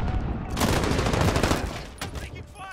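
Rapid automatic gunfire in a video game team deathmatch, a dense, loud burst of shots that fills most of the clip before tapering into a few sharper reports, with a game voice underneath.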